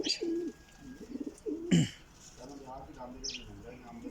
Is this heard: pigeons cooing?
yes